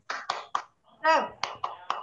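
A class of children does a rhythmic spirit clap, sharp unison claps in a patterned beat with a chanted shout in the middle, close and fairly clear in a quiet room.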